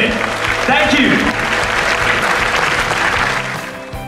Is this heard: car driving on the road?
no